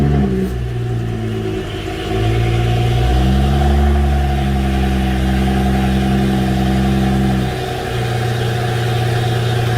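A car engine cranks over, catches and settles into a loud first-start idle, then revs up in a couple of rising swells before easing back to a steady rumble, close and alone.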